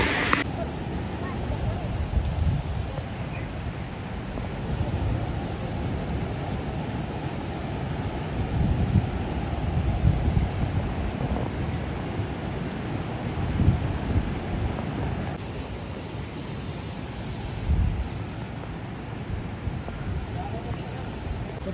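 Floodwaters of a swollen river in Kullu Manali rush past in a steady, loud broadband roar, with wind buffeting the microphone throughout and no clear breaks in the flow.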